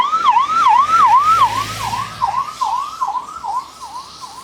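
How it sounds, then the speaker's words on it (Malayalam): An ambulance siren wails in a repeating rising-and-falling pattern on a busy road on the way from Srinagar to Jammu, loud and close at first, then dropping slightly in pitch and level as it passes, with engine rumble underneath. "ഓ, ആംബുലൻസ് ഒരെണ്ണം വരുന്നുണ്ട്."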